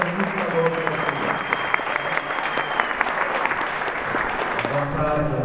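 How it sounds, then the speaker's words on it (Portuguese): Steady, loud applause from a crowd, a dense patter of clapping that continues throughout without pause. "Uma salva de palmas para o nosso presidente da Juventude Estadual do PSDB."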